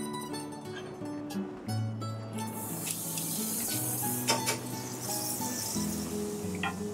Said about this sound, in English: some quick butter into the frying pan